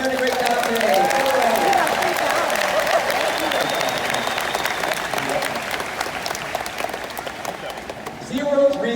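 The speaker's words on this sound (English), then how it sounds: "how about we give our volunteers a huge round of applause for doing a great job today" A crowd gives a big round of applause for volunteers at the Orca Encounter killer whale show at SeaWorld Orlando, with loud sustained clapping filling the whole stretch and a few cheers mixed in.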